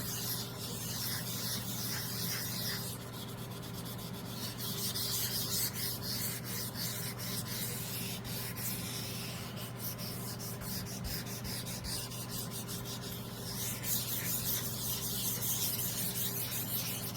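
Resin piece being wet sanded by hand, a steady abrasive rubbing and scrubbing that continues throughout at close range, with shifting strokes and no talking.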